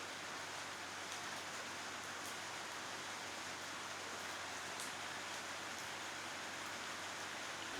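Steady rain falls outdoors as a dense, even hiss that stays constant throughout, faint and distant with no voices.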